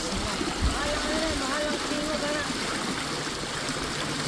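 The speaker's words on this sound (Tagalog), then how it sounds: "Malakas ang agos." A strong river current rushes in a steady broadband wash of water, fairly distant and even, with a brief low thump near the start.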